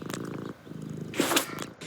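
A cat purring in the video game Deponia, a steady low rumbling purr that continues for about two seconds and swells briefly near the end, with no talk over it.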